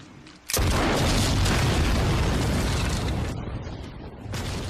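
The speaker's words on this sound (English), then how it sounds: "That very loud noise you hear is Rick Grimes blowing up a bridge" A bridge being blown up in a zombie TV drama produces a massive, loud roaring explosion that bursts in suddenly and rumbles on for several seconds before briefly easing and swelling again.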